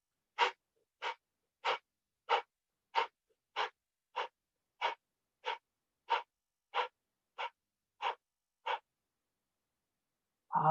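Deep, slow breaths during guided meditation, about fourteen evenly spaced breathy pulses roughly every 0.65 seconds, close and soft against near silence, with a louder breath at the end.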